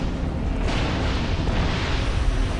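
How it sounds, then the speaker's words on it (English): An explosion in The Solus Project gives a sudden booming burst that rises out of a low rumbling background, then settles into a sustained loud roar with no voices over it. "nice to know that there's fucking explosions everywhere"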